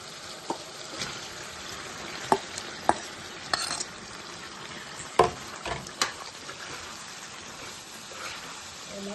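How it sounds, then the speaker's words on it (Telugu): Chicken stirred into a simmering tomato gravy in a pan, with a steady low sizzle and scattered scraping clicks of a spoon at irregular intervals, close by and fairly quiet. "ఇలా మగ్గిన టమాటా గ్రేవీలో మనం కలిపి పెట్టుకున్న చికెన్ వేసుకుందాం"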